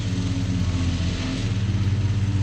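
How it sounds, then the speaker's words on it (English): A tractor mowing hay on a rain-soaked farm field hums close by, a steady mid-pitched engine drone with a slight pulsing rhythm throughout. "He's gonna mow the hay."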